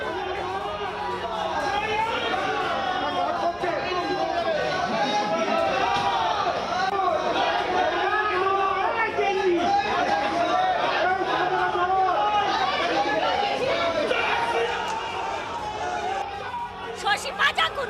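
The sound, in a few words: BJP supporters protesting outside court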